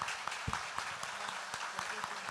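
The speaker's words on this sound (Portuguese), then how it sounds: "Um aplauso para todos nós aqui e para todos vocês." Audience applause at a public debate on electoral accessibility, a steady wash of many hands clapping with a few sharper individual claps, filling the short stretch at moderate loudness.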